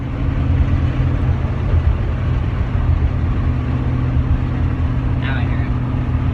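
Lexus SC400 drift car engine idling in neutral and revving under throttle, a steady loud low drone close by with a faint whine near the end.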